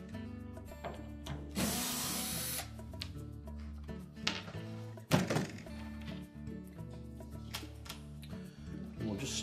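Screws being removed from the back panel of a Whirlpool dryer: a power driver buzzes in short bursts, with sharp clicks and knocks of the tool against the metal panel.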